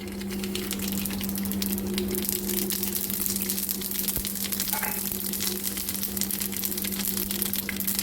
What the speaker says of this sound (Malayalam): കടുക് പൊട്ടിക്കാണ്.